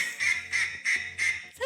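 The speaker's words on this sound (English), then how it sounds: "Is that a duck? Duck call?" Three rhythmic duck-call quacks from a sound effect, each a nasal, buzzy honk repeated at an even pace, loud and close with no talking over them.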